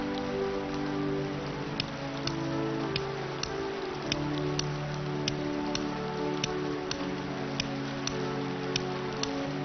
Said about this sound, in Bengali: আরে মিনা, রাজু, তোমরা বৃষ্টি তো, তাই এইখানে একটু দাঁড়াইছি।